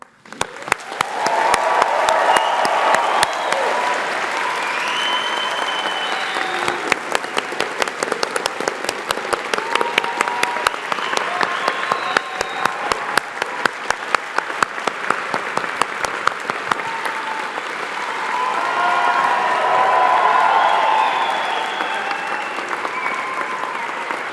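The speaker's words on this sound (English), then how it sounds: "let's do a collective, massive cheer for the class of 2024" A large graduation crowd for the class of 2024 in chemistry and chemical engineering applauding and cheering together, a dense, sustained roar of clapping that swells near the end.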